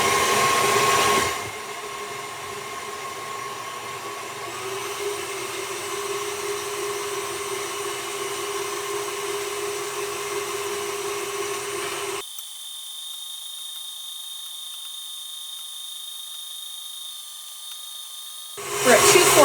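A stand mixer whips egg yolks for French buttercream with a steady, close motor whir that runs for most of the stretch and shifts to a thinner, higher whine partway through, while a voice talks over it.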